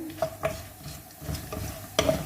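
Poppy seeds lightly roasted in a pan for khaskhas laddu, stirred with a few soft scraping strokes over a faint dry sizzle, close and fairly quiet.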